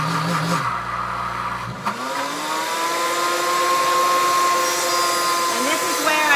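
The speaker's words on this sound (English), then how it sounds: "But that is the sound of peanut butter being made." A cooking blender grinds peanuts into peanut butter, its loud continuous motor whine dropping briefly and then climbing back to a steady high pitch close by.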